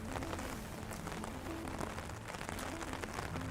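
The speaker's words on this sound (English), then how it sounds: "we can control every variable, from temperature to carbon dioxide to even the rain that's starting to come down" Artificial rain falls steadily inside the Biosphere 2 rainforest, a dense, continuous patter of drops on leaves and surfaces at moderate loudness with no voices.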